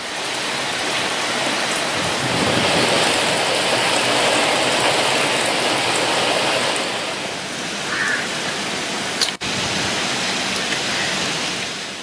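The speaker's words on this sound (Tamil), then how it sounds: "புதுச்சேரியை ஒட்டிய பகுதிகளில் மழை பெய்து வருகிறது" Steady heavy rain with gusting wind on the coast near Puducherry after Cyclone Nivar made landfall, a dense continuous hiss that holds throughout, with a brief dip near the end.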